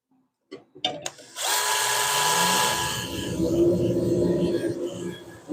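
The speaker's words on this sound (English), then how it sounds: "That's not vacuum. That's dust collection." A dust collection system in a woodturning shop switches on after a few brief clunks and roars steadily at close range, a loud broadband whoosh with a faint tonal whine, slowly easing slightly toward the end.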